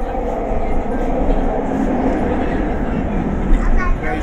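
An LRT subway train in Kuala Lumpur, Malaysia, a steady loud rumble of a rail car in motion with faint rail clatter, continuous and close, with no talk over it.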